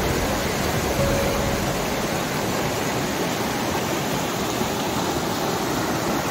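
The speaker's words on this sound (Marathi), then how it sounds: "खूप जोरदार पाणी आहे इकडे." Strong, steady rush of a swollen river in heavy rain in a Konkan village, a dense continuous roar of water close by, with no talk.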